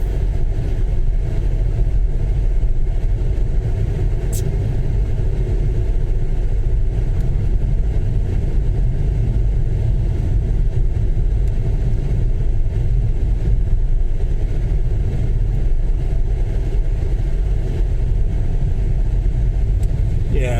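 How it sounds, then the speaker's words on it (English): A car with a six-speed manual gearbox drives along a rural road in the Falkirk district of Scotland, its engine a steady, loud, continuous rumble with road noise throughout and no clear gear changes. "I still got a bit mixed up with this car. It's got 6 gears."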